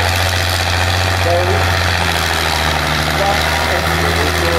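A David Brown engine, not the original unit and with no turbo, runs loudly and steadily at a steam rally with a deep constant drone, while faint voices talk underneath.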